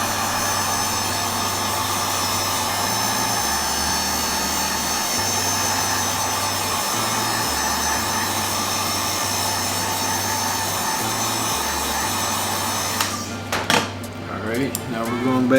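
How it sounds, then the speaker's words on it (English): A heat gun blows steadily to dry fresh paint on a pair of Jordan 12 sneakers being restored. The loud, close, continuous whooshing roar lasts about thirteen seconds before cutting off, leaving scattered rustles. "Use the heat gun to dry it off faster."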